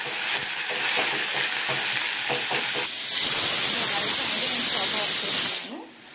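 Eggplant frying with onions, coriander and curry leaves is stirred in a hot pan, steady hissing sizzle with scraping strokes that grows louder midway, then cuts off near the end.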